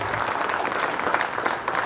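An audience at a book launch event in a hall claps in a dense, continuous burst of applause, fairly near and steady for a couple of seconds.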